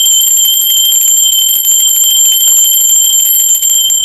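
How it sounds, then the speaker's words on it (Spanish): A bell rings with a bright, high, sustained metallic tone that holds at a steady loud level throughout and barely fades. "así que va a la campana."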